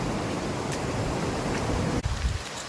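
Floodwater from an overflowing village river pours across the Hurva–Moruka road, a steady broadband rush close to the microphone with a brief knock near the end.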